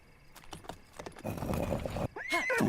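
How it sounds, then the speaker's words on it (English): Dark Epona, a horse in Zelda: Breath of the Wild, neighs and whinnies close by with clip-clopping hooves, building to a loud final whinny. "There's my stupid ass horse. Good old Dark Epona."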